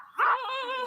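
A single dog gives a sharp, close bark that trails off into a longer whining yelp, loud and alone with no talking over it.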